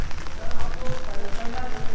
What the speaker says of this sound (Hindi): बारिश हो गई है स्टार्ट एंड हमने ले लिए हैं अपने छाते.